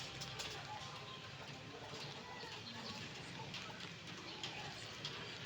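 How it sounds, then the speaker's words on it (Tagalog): Steady rain pours down outdoors, a dense, even hiss of drops on surfaces that holds at a moderate level throughout, with faint bird calls in the background. "Umuulan na."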